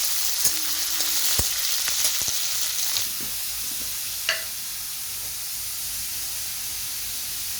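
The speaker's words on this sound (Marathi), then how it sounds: "मिरची पण टाकून देते. कढीपत्ता." Green chillies and curry leaves dropped into hot oil for kanda pohe, a loud dense sizzle and spatter up close with a few sharp utensil taps, settling into steady frying hiss.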